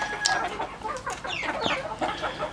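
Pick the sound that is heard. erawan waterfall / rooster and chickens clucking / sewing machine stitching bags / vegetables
rooster and chickens clucking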